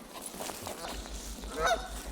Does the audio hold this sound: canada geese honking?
yes